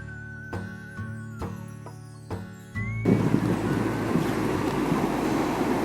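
Wind at the seaside: after a few seconds of tones and knocks, strong gusty wind roars and buffets steadily close up, with a rough, broadband rush.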